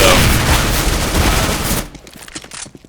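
Gunfire in Counter-Strike: Global Offensive during a matchmaking round: a loud, dense burst of rapid shots fills the first two seconds, then gives way to quieter scattered clicks and distant pops.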